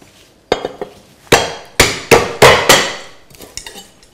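A knife roughly chops spring onion on a board: about seven sharp, loud thwacks in an uneven rhythm, close and clear with no talking.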